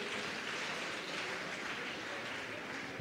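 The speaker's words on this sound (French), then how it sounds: "Applaudis chorale là pendant qu'elle n'a pas rangé." A congregation applauds a choir at a Nazarene church harvest festival service in Gros-Morne, a steady, dense wash of clapping that holds evenly throughout without a break.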